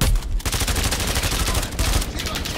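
Rapid automatic gunfire rattles on in a dense, continuous stream from a Call of Duty Modern Warfare 3 ranked match, loud and close, with brief pauses between bursts.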